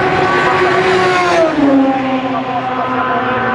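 Peugeot LM P1 race car, the number 2 entry, at Spa-Francorchamps during a 2010 Le Mans Series race, its engine roaring loud and close with a pitch drop as it shifts or passes, under a commentator's voice.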